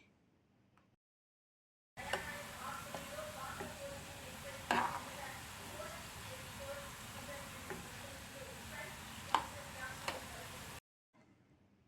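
Mushroom pieces fry in oil for a pickle, a steady soft sizzle of about nine seconds with a few sharp utensil clicks from stirring, set between short stretches of near silence.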